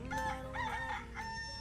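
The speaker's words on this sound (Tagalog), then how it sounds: "Tumitilaok na ang mga manok." A rooster crowing once, a loud, near, drawn-out cock-a-doodle-doo with wavering pitch over a faint low background hum.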